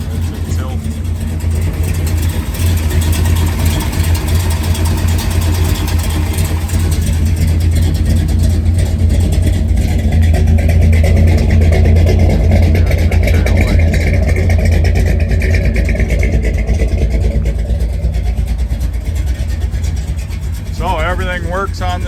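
A 1963 Chevrolet C10 truck with a 402 big block engine runs steadily and loud nearby, with a deep throaty idle rumble that swells slightly in the middle.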